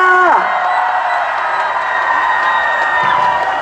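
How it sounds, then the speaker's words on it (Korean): Outdoor crowd at a rainy melon-festival concert in Seongju cheering and applauding steadily for a fan club, a dense, loud wash of voices and claps with whoops rising over it, after a brief voice at the start. "성주구민 여러분, 우리 팬클럽에게 박수 한 번만 부탁드리겠습니다"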